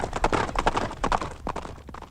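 Horse hooves clip-clop in a quick, steady rhythm, close and moderately loud, with no other sound over them.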